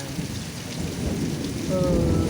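Heavy rain hisses steadily on outdoor surfaces while deep thunder rolls low and continuously beneath it, swelling slightly toward the end.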